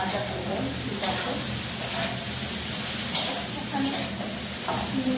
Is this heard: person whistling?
no